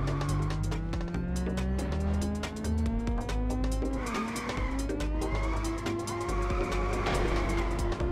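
In the racing game Inertial Drift, a car engine drones loudly with rising pitch as tires squeal and skid through sustained drifts, continuous and close.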